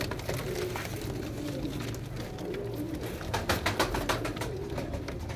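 Teddy pearl-eyed pigeons coo repeatedly in low, throaty phrases, close by, with a brief cluster of louder coos and light wing or cage clatter mixed in.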